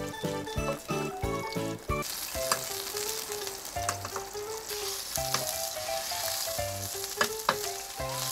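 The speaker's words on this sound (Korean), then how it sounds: "그래서 여기 후라이팬에 제가 한번 구워서 먹어보도록 하겠습니다" Frozen-then-thawed, gutted fish or American crayfish fry in a frying pan, beginning with clinks and handling noises, then a steady close sizzle with occasional sharp pops and scrapes.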